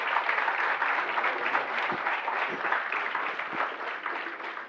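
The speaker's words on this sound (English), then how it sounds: "please join me in welcoming our distinguished dignitaries with a big round of applause" Audience applause welcoming distinguished dignitaries onto a dais at a formal ceremony, a steady dense wash of clapping sustained throughout with no speech.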